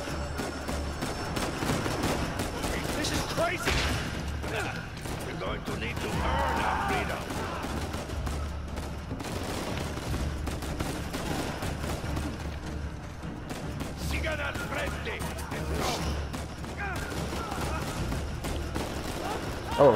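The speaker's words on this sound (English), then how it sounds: "Shooting the prisoner." Scattered gunfire from Uncharted 4 during a prison jailbreak mission, with intermittent shots and mechanical clatter over a steady low rumble, mixed under game audio and talk.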